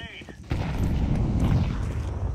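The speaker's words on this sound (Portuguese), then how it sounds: "tiros estão sendo dados" Sustained rapid gunfire in a multiplayer video game, a dense crackling barrage starting abruptly and continuing loudly, with a brief voice just before it.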